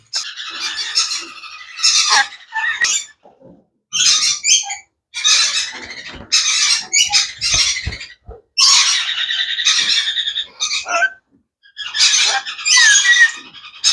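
Red lory parrots at a bird market let out loud, harsh squawks and screeches close by, coming in bursts of a second or two separated by short pauses, with no talking.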